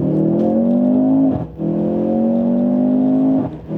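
A 2-liter electrified turbocharged engine in a 2023 Mercedes-AMG C43 revs up steadily in sport mode, its pitch climbing, drops briefly at a gear shift, then climbs again; loud and close, with no talking.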